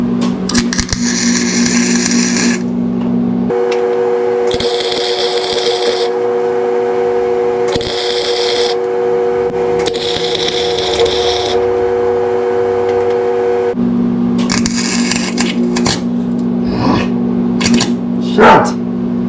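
A welder lays tack welds on a hot rod pedal mount with several separate bursts of crackling, buzzing arc, each lasting a second or two. A steady hum from nearby equipment continues underneath.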